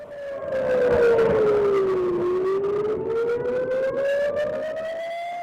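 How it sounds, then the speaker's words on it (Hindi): A wailing air raid siren in Israel, sounding during rocket attacks, slowly falls then rises in pitch, loud and sustained, with faint background noise underneath. "सायरन आप सुन रहे होंगे, ये सायरन खतरे को देखते हुए बजाया गया है।"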